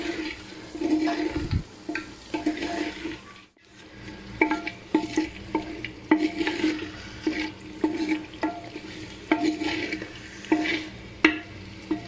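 Spices being stirred into mutton in a clay handi pot, giving a steady run of scraping, stirring strokes at close range with no voices.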